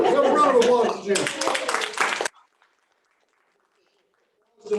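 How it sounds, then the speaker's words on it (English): A small workshop audience gives a short round of clapping for a winner, mixed with a person talking. The applause is thin and close, breaks off abruptly, and silence follows. "Have a round of applause,"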